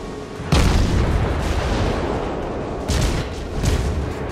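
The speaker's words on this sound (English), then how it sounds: "we took a direct hit" A warship takes a direct hit during a World of Warships naval battle. Heavy booming impacts land in bursts: a strong blast early on, then two more rumbling hits near the end over a constant rumble of battle noise.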